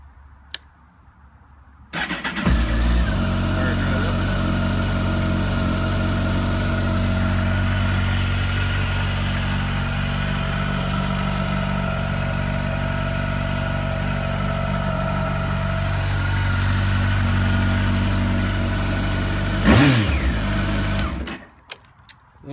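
A cold 2007 Kawasaki Ninja ZX-14 motorcycle engine cranks and fires after a short pause, then settles into a loud, steady close-range idle that holds for about twenty seconds before a brief rev and shutoff.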